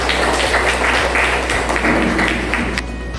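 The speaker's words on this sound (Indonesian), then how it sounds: "Beri aplaus dulu" Audience in a school classroom applauds after a group's class presentation, a steady, dense wash of clapping that fills the room for about three seconds before thinning out at the end.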